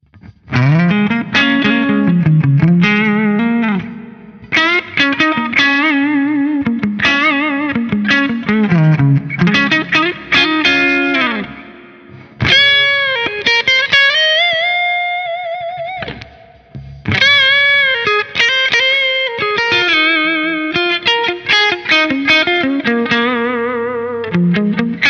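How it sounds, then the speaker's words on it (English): Electric guitar played through a Fractal AX8 using its South Church reverb, with distorted, chorus-tinged chords and melodic lines ringing into long, spacious tails, loud and up front, with brief pauses between phrases. "let's have a listen to that South Church reverb"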